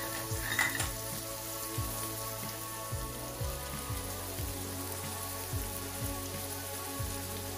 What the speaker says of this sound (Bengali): রসুনটা 30 সেকেন্ড ফ্রাই করে হাফ কাপ পেঁয়াজ কুচি দিয়ে